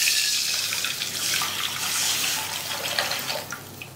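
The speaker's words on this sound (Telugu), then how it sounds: "ఇదిగో గ్లాసుకి 2 గ్లాసులన్నర నీళ్ళు కొలుసు పోసుకున్నాను." Water splashes steadily into a cooking pot for Annavaram prasadam, a close continuous pouring rush that tapers off near the end.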